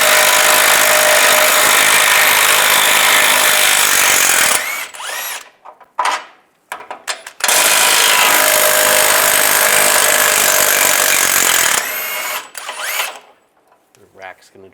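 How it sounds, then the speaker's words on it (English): A power tool with a socket removes steering rack bolts on a 2007-2013 Chevy Silverado, loud sustained whirring bursts broken by short gaps and clanks, then a second long run. "we'll take the steering rack bolts out"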